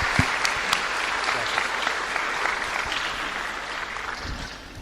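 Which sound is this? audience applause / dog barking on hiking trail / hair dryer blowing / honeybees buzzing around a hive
audience applause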